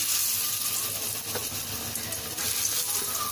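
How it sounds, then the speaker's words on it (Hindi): Raw banana cutlets shallow frying in oil in a pan, a gentle continuous sizzle with a couple of small clicks as pieces are set down, close and unaccompanied. "अब हम अपने सारे कटलेट्स इसमें डालेंगे और शैलो फ्राई करेंगे"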